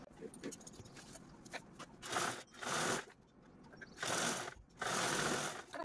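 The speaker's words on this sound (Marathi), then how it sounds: "झीपची राईट साईड अशा पद्धतीने ठेवून यावरती स्टिच करून घेऊ" A sewing machine stitches a zip onto cloth for a fabric makeup kit, running in four short whirring bursts with pauses between, faint and close.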